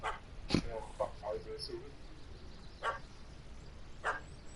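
In The Witcher 3: Hearts of Stone, a puppy gives several short yips and barks, some close and some farther off, over a soft outdoor ambience with faint voices.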